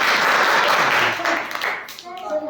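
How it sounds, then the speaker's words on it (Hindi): Classroom students clapping together for a classmate during a math lesson, a burst of brisk applause that fades after about a second and a half, followed by a teacher's voice. "ताली बजाओ इसके लिए"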